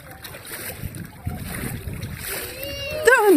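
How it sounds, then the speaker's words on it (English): Mud thrown into shallow water at a sunny beach, making soft splashes and sloshing against wind and surf, with children's voices and adult chatter in the background and a high squeal near the end. "Throwing mud in the water."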